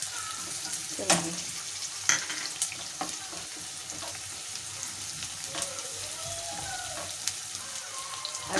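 Cashews frying in oil in a pan for malai kofta gravy, with a soft steady sizzle and a few sharp clinks of a spoon stirring against the metal.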